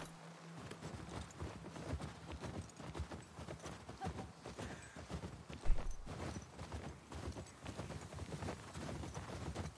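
Horse hooves clip-clop in a steady, continuous walking rhythm during riding in The Last of Us Part 2, close and clear over faint game ambience, with occasional voices.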